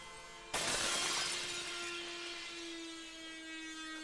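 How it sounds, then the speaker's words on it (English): Construction noise from inside a house, an abrupt loud crash followed by a sustained metallic ringing tone that slowly fades, with no voices. "There's construction going on in my house."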